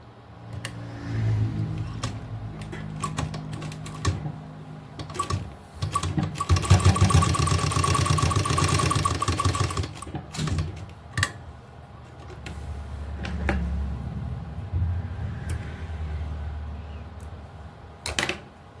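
A sewing machine stitches a seam on a trouser cuff in one sustained, rapid whirring run, with softer fabric handling and brief mechanical clicks before and after.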